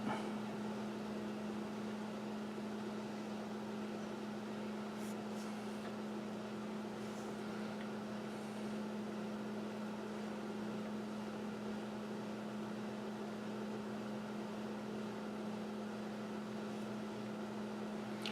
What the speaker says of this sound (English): You can hear a hum in the background. It's my space heater.